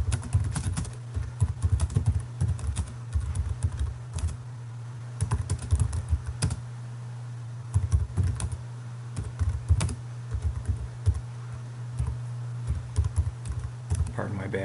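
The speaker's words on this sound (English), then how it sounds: "Pardon my bad typing" Someone types steadily on a computer keyboard at a desk, with irregular bursts of close key clicks over a low steady hum for the whole stretch.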